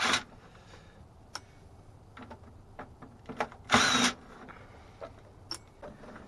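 A power drill removes the screws from an AC unit, giving one short, loud whir of under half a second amid quiet handling clicks and taps.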